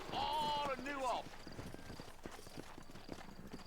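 Horse hooves clip-clop in a steady rapid rhythm in the Western video game Red Dead Redemption, heard in a town setting as someone speaks over the start, then continuing alone at moderate distance.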